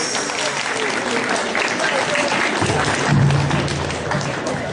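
A festival audience applauds a singer at the Festival de la Primavera with a steady wash of clapping, while a voice is heard partly over the crowd.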